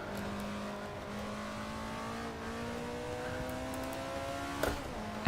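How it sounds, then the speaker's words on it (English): An Alfa Romeo 33 Stradale on the historic 1967 Kyalami circuit in Assetto Corsa, engine pitch falling steadily as the car brakes hard, then a brief blip near the end, at moderate volume. "Down hard on the brakes for this corner here."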